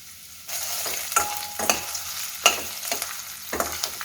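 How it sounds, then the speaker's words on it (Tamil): Red chilli, curry leaves and onion fry in hot oil for a Kerala kadala curry, a steady loud sizzle broken by repeated scraping stirs of a spoon against the pan. "நல்லா கொஞ்சம் ஃப்ரை ஆகட்டும்"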